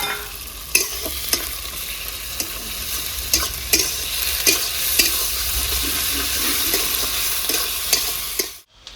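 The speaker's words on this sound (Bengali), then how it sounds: "আমার ভালো করে ভাজা হয়ে গেছে, এবারে এখানে আমি আদা রসুন" Ginger-garlic paste frying in a pan while being stirred, for cabbage kofta curry: a steady, loud sizzle runs throughout, broken by frequent clicks and scrapes of a spoon against the pan, then cuts off abruptly at the end.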